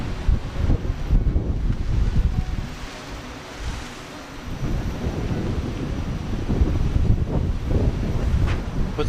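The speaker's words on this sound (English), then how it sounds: "A little windy right now." Strong wind buffets the microphone in loud, steady gusts with a rumbling roar, rising and falling over several seconds.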